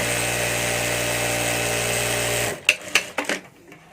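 An electric sewing machine stitching a handle for a homemade hand bag, with a steady motor whir that runs about two and a half seconds, then stops and gives way to a few short clicks and taps.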